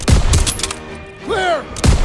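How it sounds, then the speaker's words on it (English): Machine gun fire in the video game Call of Duty WWII: loud, sharp bursts crack near the start and again at the end, with a brief whining battlefield sound between them and no clear speech. "Daniels, hit that MG! Protect our boys!"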